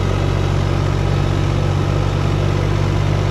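A New Holland T580B diesel tractor engine idles steadily up close, a loud, even rumble with a constant low throb and no breaks.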